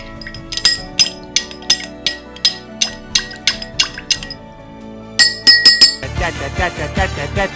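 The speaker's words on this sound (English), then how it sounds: "We're going to gently stir." A bar spoon gently stirs an Old Fashioned made with Don Julio 1942 tequila in a glass, giving a steady run of bright, evenly spaced clinks against the glass, then a quick flurry of taps before a fuller, busier noise takes over.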